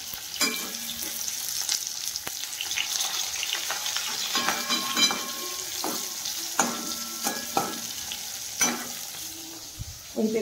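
Pointed gourd (potol) frying in hot oil, a continuous close sizzle punctuated by clinks and scraping strokes of a utensil in the pan, heard alone without speech.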